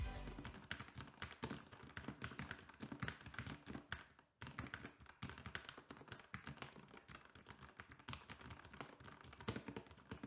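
Rapid typing on a CIDOO ABM084 mechanical keyboard, a steady stream of clacky keystrokes up close with a brief pause midway, no voices.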